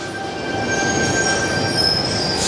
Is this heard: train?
yes